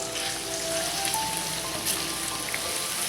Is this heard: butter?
yes